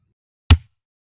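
A single kick drum stroke on an acoustic drum kit during a slow beat lesson for a song: one close, punchy low thud with a short decay, alone in silence.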